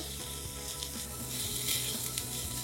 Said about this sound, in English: We're going to saute this for a minute